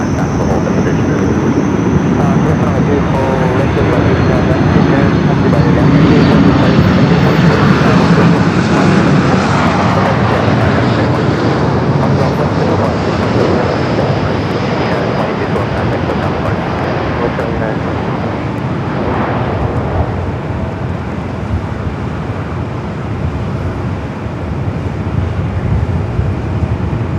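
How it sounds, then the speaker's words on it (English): A Delta airliner departing Los Angeles LAX for Salt Lake City roars with a sustained, loud jet engine rumble. The roar swells and slowly fades across the runway with some wind buffeting. "Delta 76 sending this aircraft off to Salt Lake City."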